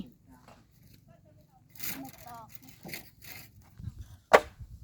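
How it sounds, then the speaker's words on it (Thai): Wood being split gives a single sharp, loud crack near the end, preceded by smaller knocks and rustles, while people talk nearby. "ผ่าไม้"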